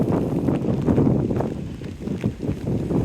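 Strong wind near Teignmouth Station buffeting the microphone in a steady, loud roar with gusty surges on a wet day, no voices.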